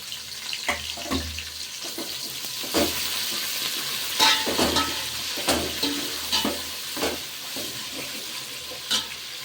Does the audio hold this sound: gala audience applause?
no